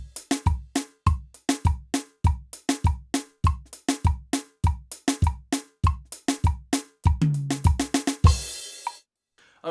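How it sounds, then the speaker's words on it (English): A drum kit plays a basic soca beat: a steady, punchy repeating pattern of close, loud hits that runs for several bars and ends in a washing cymbal crash. "The basic beat you will hear the most will sound like this"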